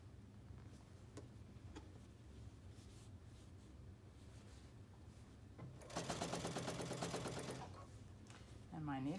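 A sewing machine with a worn needle stitches along the edge of a quilt, a quiet run of rhythmic clicking that bursts into a loud, fast, rattling stitch burst near the end.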